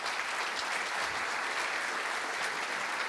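Conference hall audience applauding the event sponsors, an even, continuous wash of many hands clapping, moderately loud and unchanging throughout, with no voices over it.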